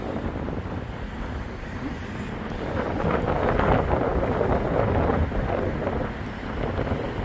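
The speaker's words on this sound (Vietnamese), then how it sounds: "Từ thành phố Vũng Tàu về thành phố Bà Rịa thì gió hiện tại vẫn rất là mạnh các bạn nha." Strong coastal wind on the road from Vung Tau toward Ba Ria buffets the microphone in a continuous loud roar that swells midway, with no voices.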